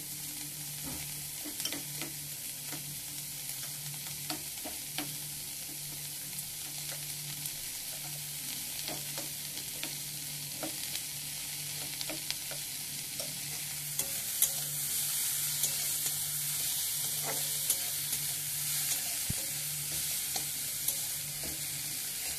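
Onions frying in a pan with a constant sizzle, punctuated by repeated scraping and clinking as a utensil stirs, steady throughout.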